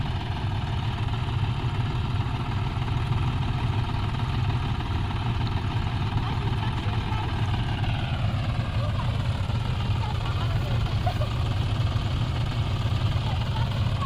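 A tractor's engine runs while the machine sits stuck in mud, giving a steady, unbroken mid-pitched drone that stays close and fairly loud for the whole stretch, with no voices over it.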